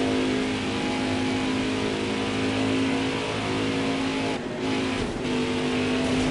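NASCAR Craftsman Truck Series pickups racing in the Chevy Silverado 200 playoff opener, a loud continuous engine roar with steady droning pitch and a brief dip as trucks pass close.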